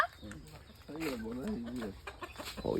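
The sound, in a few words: chickens clucking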